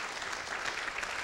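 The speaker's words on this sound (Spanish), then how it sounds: "vamos a aplaudir para recibir la palabra" A church congregation applauds to welcome a preacher's sermon, a brief, even wash of clapping heard at moderate distance with no voices.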